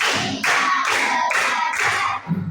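In a classroom, pupils clap in unison to a counted rhythm, four crisp, loud group claps in steady succession followed by a softer trailing sound.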